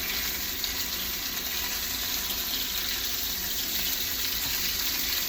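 A kitchen tap runs steadily for hand rinsing, a continuous close rush of water splashing into a sink, alone without talk.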